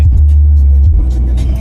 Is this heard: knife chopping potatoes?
no